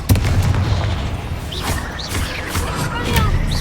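In Hogwarts Legacy, the Confringo fire spell strikes as deep booming blasts with a rumbling low end, followed by sharp swishing magic effects and bursts that come several times in a row, loud and close.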